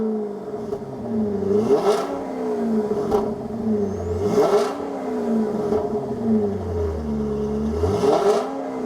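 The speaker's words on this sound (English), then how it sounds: "let's start at the XLR-V and see how she sounds" A Cadillac XLR-V's engine idles close by, then revs sharply three times, each blip climbing quickly and dropping back to a lumpy idle.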